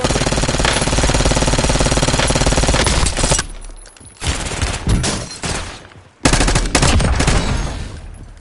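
Loud automatic gunfire in the video game Call of Duty Warzone. Sustained close bursts break off into a few separate shots and short pauses, then the firing resumes hard.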